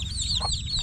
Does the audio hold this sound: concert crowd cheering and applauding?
no